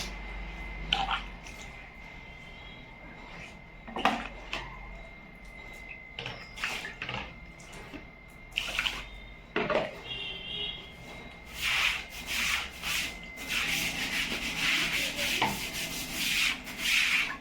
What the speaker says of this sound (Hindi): दीवार भी धो दे रही हूँ मैं